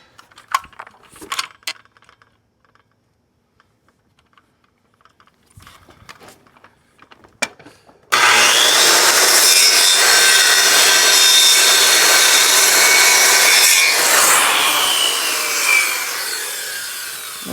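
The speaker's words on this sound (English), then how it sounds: "A little Japanese saw. A little hacking." A Japanese hand saw cuts timber for a timber frame joint, a loud, close, continuous rasping stroke that fills the second half after scattered light knocks and tool handling.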